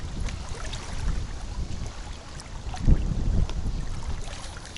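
Strong autumn wind blows across a pond while fishing, a steady low rumble and buffeting against the microphone, with a louder gust near the middle.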